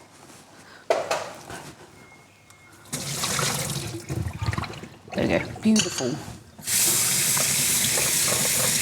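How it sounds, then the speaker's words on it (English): Cold tap water runs into a sink, rinsing freshly cooked food, a steady loud gush that starts and stops in bursts and then pours continuously, with a person talking briefly over it. "Okay, rinse it under cold water"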